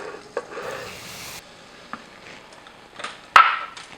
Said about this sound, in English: And just whisk that. It gets thick very quickly.